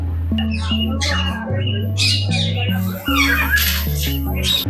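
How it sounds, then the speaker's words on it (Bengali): Parakeets in an aviary at Gazipur Safari Park give scattered chirps and squawks over steady, tonal background music, with faint voices in the mix. "শুরুতে দেখতে পাচ্ছি টিয়া পাখি"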